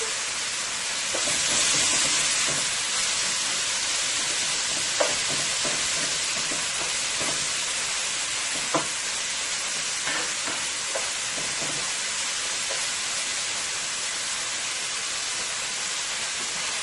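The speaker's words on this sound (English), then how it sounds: "It's going to take about 2 to 3 minutes, and you want to cook this on high heat." Beef stir-frying over high heat for Chinese-style beef and broccoli, a steady loud sizzle with occasional light stirring scrapes and clicks, close by, with no talking.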